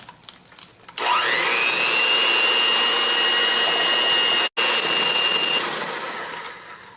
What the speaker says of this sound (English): Now we're going to combine this all together with my mixer